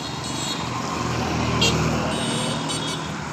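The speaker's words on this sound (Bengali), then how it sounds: "গাড়ি চলাচল করতেছে।" Traffic near Fulpur bus stand at Shahpur Bazar gives a steady, moderately distant engine rumble. Short high beeps and horn toots break through now and then.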